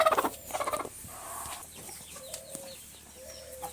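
Chickens, including a white speckled hen, cluck in a quick rapid burst at the start, followed by softer scattered clucks and calls nearby.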